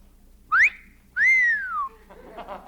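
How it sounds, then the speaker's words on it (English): A lifeguard's signal is given as two clear whistled notes, a short rising chirp followed by a longer rising-then-falling whistle, fairly close and loud, then a faint murmur. "They signal with whistles, like this."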